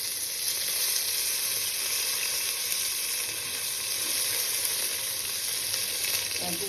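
Two dried red chillies and two bay leaves sizzle in hot oil at the start of a bhetki fish curry, a constant, even crackling hiss close to the pan with no voices.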